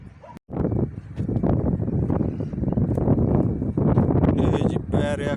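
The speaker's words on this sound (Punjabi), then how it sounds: "ਇੰਨੀ ਤੇਜ਼ ਹਨੇਰੀ ਹੈ" Strong gusting wind roars steadily through an open rooftop pigeon loft during a storm under cloudy skies, with a voice talking over the constant rumble.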